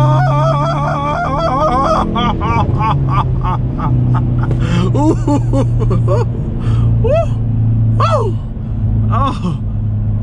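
Hyundai Veloster N turbocharged engine rising and falling in pitch through a downshift, a loud steady drone with repeated rev swoops, heard from inside the car with a brief exclamation and some talk over it.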